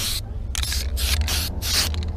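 An aerosol spray can paints a car grille in a series of close, hissing bursts of varied length separated by short gaps, with a faint mechanical rattle underneath.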